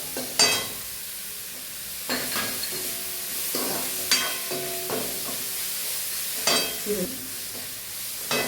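Green chillies and curry leaves sautéed in a pan while cooking wheat adai, with a steady frying hiss and several sharp stirring scrapes of a spoon against the pan, close and moderately loud.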